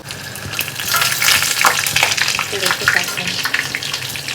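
Chicken pakora frying in hot oil gives a steady bright sizzle and crackle, with small bursts of bubbling as pieces are turned, loud and close throughout.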